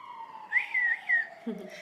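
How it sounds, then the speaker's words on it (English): A faint wailing siren rises and falls in a few short sweeps, distant and thin against a quiet background. "Ooh, siren."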